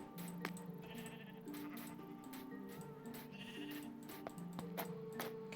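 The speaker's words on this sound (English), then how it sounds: "Sheep." Repeated sheep bleats in the Minecraft video game, several calls overlapping over a few seconds amid soft game background noise, fairly quiet overall.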